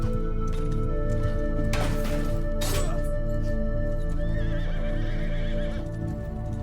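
A horse whinnies in Mount and Blade 2 Bannerlord with a Lord of the Rings mod, the neigh rising over steady game sounds and music, with hoof clip-clops and no talk.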